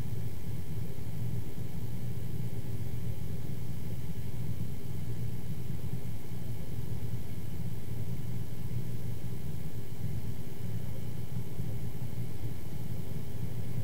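A polishing machine buffing at roughly 1500 to 1800 RPM with 1500-grit abrasive, producing a loud, steady low droning whir that holds unbroken for the whole stretch, with no talking.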